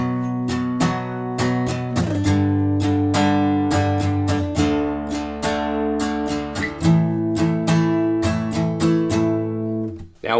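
Acoustic guitar strumming the second line of chords from a song, steady rhythmic down-and-up strums ringing clearly and close, alone with no voice.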